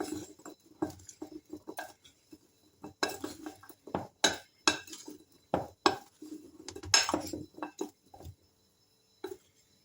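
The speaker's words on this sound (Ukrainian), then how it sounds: "Гарненько розмішую." Spoon clinks and scrapes against a bowl while stirring a cottage cheese casserole mixture with starch, in irregular bursts of clatter and soft pattering, with no talk.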